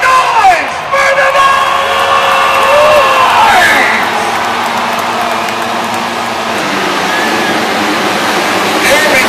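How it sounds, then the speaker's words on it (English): Stadium crowd cheering at an AMA Supercross race at Qualcomm Stadium, a loud dense roar with horn toots and engine whine over it, steady throughout and dipping slightly midway. "That's where you're going to hear the crowd get loud."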